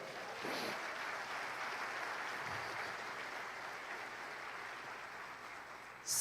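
Steady, fairly faint applause from a church congregation clapping for the Lord during a sermon, a continuous hiss of many hands with no voices over it, ending in a sudden louder burst.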